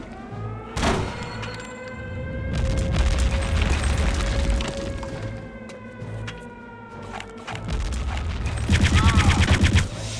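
A grenade blast and gunfire in Return to Castle Wolfenstein: a sharp bang, then sustained loud bursts of automatic fire over rumbling background noise, ending with a fast rattling volley.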